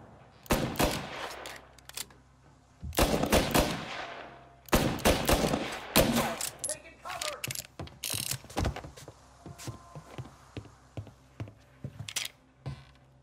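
Gunfire in a Mafia: Definitive Edition shootout: loud bursts of shots and rapid automatic fire, followed by scattered single shots and mechanical clicks.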